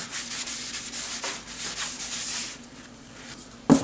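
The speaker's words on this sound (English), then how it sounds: "Just try and wipe off as much sanding dust as I can." Steady rubbing and wiping strokes wiping sanding dust off a turned pine bowl, soft and close, ending with a brief louder scuff.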